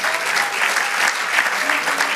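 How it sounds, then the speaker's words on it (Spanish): A church congregation claps together in a brief, steady burst of applause, many hands sounding evenly and fairly close for the whole moment. "Denle un aplauso a que vive."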